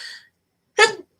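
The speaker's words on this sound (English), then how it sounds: "I feel like I'm going to sneeze like any minute." A single close sneeze, a short sharp burst preceded by a brief breathy intake.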